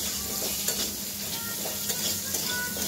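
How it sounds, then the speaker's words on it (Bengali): Chunks of young jackfruit fry with salt and turmeric in a pan, giving a steady close sizzle with a soft stirring scrape running through the whole stretch and no voices. "নুন হলুদ দিয়ে ভেজে নিচ্ছি।"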